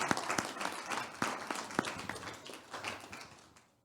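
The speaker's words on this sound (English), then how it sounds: "please give a round of applause for Fatima." Audience applause for a speaker at a panel session on technology sharing in the Global South, a short burst of scattered clapping that thins out and fades over a few seconds.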